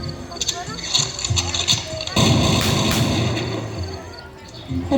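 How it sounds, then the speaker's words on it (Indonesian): Gunfire sound effect of golden bullets being shot, with several sharp reports and a heavier blast mid-clip over scuffling noise, loud and close. "mereka dengan berhati-hati menembakkan peluru tersebut ke si Pitung"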